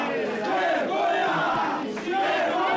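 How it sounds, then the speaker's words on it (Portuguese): Parliamentarians at a Brazilian CPMI inquiry session boo and shout shame in unison during the committee president's speech, a loud, continuous roar of angry voices filling the chamber throughout. "vaiando e gritando vergonha durante a fala do presidente da CPMI"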